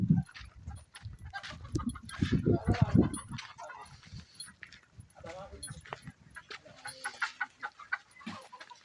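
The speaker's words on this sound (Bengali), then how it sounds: "এখানে দেখুন মুরগি রয়েছে, একবারে দেশি দেশি মুরগি" Native chickens cluck and call in short bursts close by, with a dog and other farm animals around and someone talking over them.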